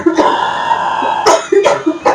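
A person coughs in a few harsh, separate bursts close to the listener, with a dense airy room noise in the background.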